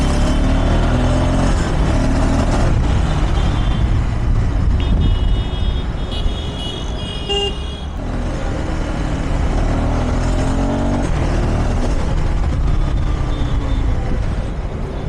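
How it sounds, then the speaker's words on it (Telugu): Dense road traffic surrounds a 2025 KTM Adventure 390 S on a rainy test ride: a loud, constant rumble of cars, buses and trucks with engines swelling and passing close by throughout. "ఫస్ట్ ఆఫ్ ఆల్ ట్రాఫిక్ ఎక్కువ వచ్చింది."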